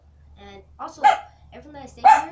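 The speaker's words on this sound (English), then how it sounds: "Oh, sorry, that was my dog" A pet dog barks twice indoors, two sharp yaps about a second apart, close by, while a person keeps talking over and between them.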